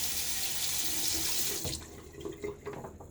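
Tap water runs hard into a sink while a Gillette Ranger Tech safety razor is rinsed, a loud steady rush that cuts off partway, leaving quieter splashes and drips.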